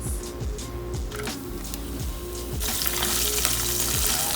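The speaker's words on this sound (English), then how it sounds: "And fry until transparent pink, preferably golden brown on a medium flame" Green chilies and onions fry for a chicken curry with a steady close sizzle, under repeated stirring scrapes. The hiss swells brighter and louder partway through.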